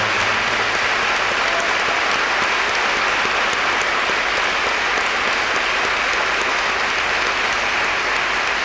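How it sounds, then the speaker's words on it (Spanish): A church congregation claps hands together during a Via Crucis service in Lanús, Buenos Aires, a dense, steady wash of applause filling the room for the whole stretch with no voices on top. "Batiré palmas para Dios."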